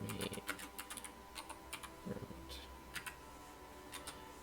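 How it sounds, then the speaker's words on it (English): Fingers type on a computer keyboard in a quiet room, a quick, uneven run of soft keystroke clicks with short pauses between bursts. "be sure to hit enter after you're done typing"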